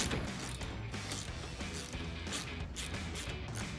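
Bolts fastened by hand during the install of an LED projector headlight, a close series of rattling ratchet clicks and metallic scrapes in short repeated bursts.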